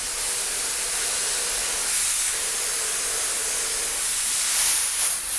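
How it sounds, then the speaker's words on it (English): Activator is sprayed onto hydrographic film floating on water, a steady close hiss of fine aerosol mist that holds constant for several seconds and swells slightly near the end, with no talking. "then we're ready to spray the activator"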